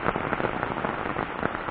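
Heavy rain pours down at a mountain stream in Sanxia's Hengxi area, a steady, loud, close patter of dense drops striking water and surfaces, with no voices.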